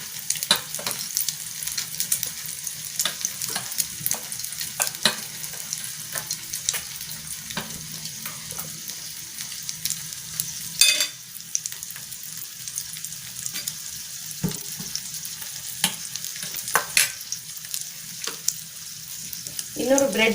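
Bread slices frying in a pan over a lowered flame for a cheese bread omelet, giving a steady close crackling sizzle with small pops and occasional stirring or scraping sounds throughout, no talking.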